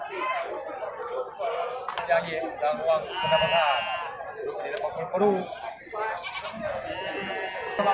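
Goats and sheep bleat at a livestock market, several calls rising over a crowd where people talk continuously nearby.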